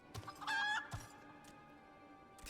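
Chicken in the Final Fantasy XIV video game clucking and squawking in a few short, fairly loud bursts over a faint steady game backdrop, with quiet tail-end sounds.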